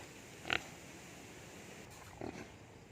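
Native pigs on a farm give two short, faint grunts about two seconds apart against a quiet outdoor background.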